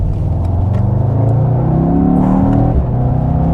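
A 2021 Mercedes-AMG E63 S sedan's V8 engine accelerating, a loud, close, deep rumbling drone whose pitch climbs steadily as the revs build, then dips briefly near the end, with no talk over it.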